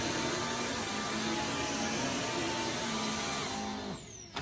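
A Simplicity a-go-go vacuum cleaner runs with a steady motor whine and airflow roar, then spins down near the end with a falling pitch and a final click.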